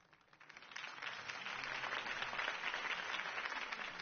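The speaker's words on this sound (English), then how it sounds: "could have heard that applause" Crowd applause follows a campaign speech for Harvey Dent in the video game Batman Telltale, a soft, muffled wash of many hands swelling in after a quiet start and holding steady, heard at a distance.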